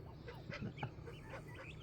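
A pet turkey making a handful of short, soft clucking and honking calls close by, in brief bursts spread across a quiet moment.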